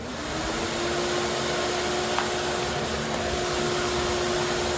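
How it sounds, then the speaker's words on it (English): A shop vacuum runs steadily while a 1990 Wahoo 16 boat is prepped for gel-coat, a loud, constant whooshing drone with a faint tonal whine, close by and uninterrupted, with no one talking. "we need to turn our vacuum on."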